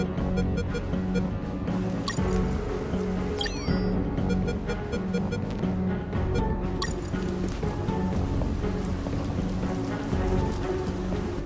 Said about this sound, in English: Under the rain and the biting cold.